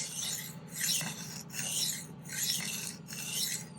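A knife is sharpened freehand on a stone, the blade drawn in steady rasping strokes, about four even passes repeating at a relaxed rhythm, close and alone with no voices.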